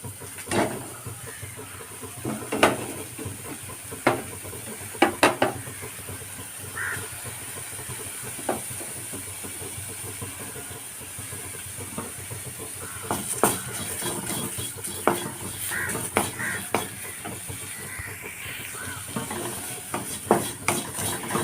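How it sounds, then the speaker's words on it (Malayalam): Quiet, steady sizzling and hiss of washed dried shrimp frying in a pan, with occasional scraping clicks of a spatula stirring throughout. "ആദ്യം ചെമ്മീനൊന്ന് വറുത്തെടുക്കാം"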